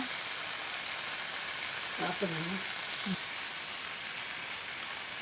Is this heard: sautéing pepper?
yes